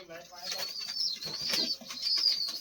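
Pigeons coo softly close by while wings flap in short bursts, over a steady hiss and faint background voices.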